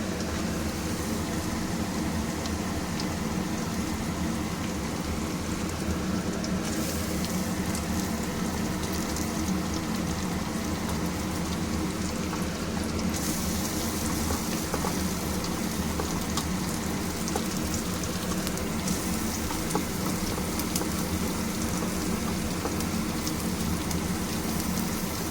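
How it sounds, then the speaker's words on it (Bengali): Chopped onion frying in hot oil for a spicy Bombay duck (lote fish) curry, giving a steady, dense crackling sizzle that holds at an even level throughout, with no voices. "এই পেঁয়াজটা আমি একটু লাল করে ভেজে নেব"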